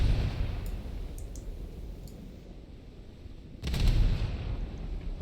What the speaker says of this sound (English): Let's try and shoot the destroyer over here and see what that looks like in terms of rate of fire.